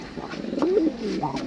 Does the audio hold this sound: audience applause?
no